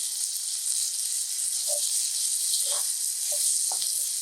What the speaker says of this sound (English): So we saute this up together